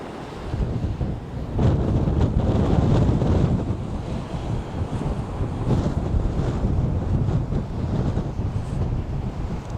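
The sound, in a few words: strong wind on the coast of Orkney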